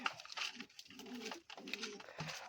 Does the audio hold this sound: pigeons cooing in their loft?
yes